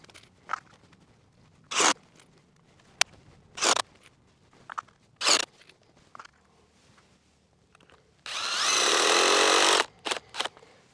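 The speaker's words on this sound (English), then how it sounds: "We'll go ahead and put our second screw in." Power tool driving a screw into a corner collar during a Cameo installation: short bursts of whirring, then a sustained loud run of about a second and a half near the end, followed by brief clicks.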